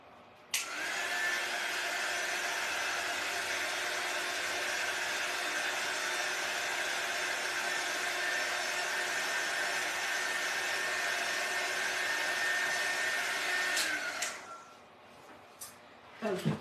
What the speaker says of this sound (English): I'm going to use my little heating device here to make sure that it's completely dry